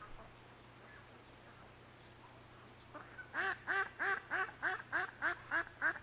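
Ducks at a feeding spot in Southern Alberta break into a run of about eight loud, rhythmic quacks after a few seconds of quiet outdoor ambience, close by and evenly spaced.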